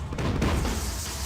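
A grenade explosion in Max Payne 3 gives a loud, sustained low boom with a rumbling tail that fills the whole moment without dying away, and no voices are heard.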